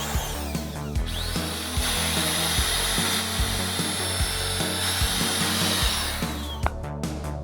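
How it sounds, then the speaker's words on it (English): A power drill bores pilot holes into wood, whining loudly and continuously up close with a steady rumble for about six seconds before winding down. "So I used the drill for the pilot holes"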